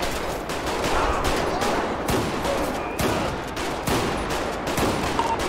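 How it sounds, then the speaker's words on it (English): Rapid gunfire in the police mod LSPDFR for GTA V, a dense volley of shots cracking over several seconds with sharp bursts near 2, 3 and 4 seconds, loud and continuous with no talk. "Shots fired."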